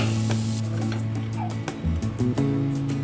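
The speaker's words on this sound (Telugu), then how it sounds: "టేబుల్ స్పూన్ ధనియాలు జీలకర్ర ఎండుమిర్చి ఆనియన్స్ దోరగా ఫ్రై చేసుకోవాలి" Coriander seeds, cumin, dry red chillies and onions fry in oil in a pan, giving a steady close sizzle with scattered crackles and a few stirring knocks, while a low hum runs underneath.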